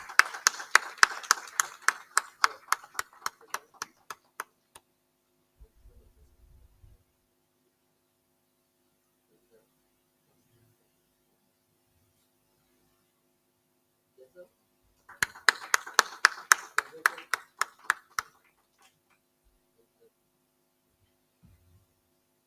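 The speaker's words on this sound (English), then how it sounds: "Huge round of applause, please." Audience applause at a conference, a dense burst of clapping lasting about four seconds that fades out, followed by quiet and then a second similar round of applause of about three seconds.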